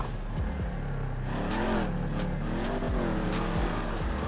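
A 2016 Dodge Charger Hellcat in GTA 5 roars along, its engine note sweeping up and down through gear changes, with tire squeal and close, loud revving throughout.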